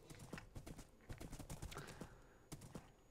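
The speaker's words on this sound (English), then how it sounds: "I need to get on my horse again." Horse hooves clip-clopping in the Minecraft video game, a quick irregular run of sharp knocking steps, fairly close and faint, continuing through the whole stretch without talk.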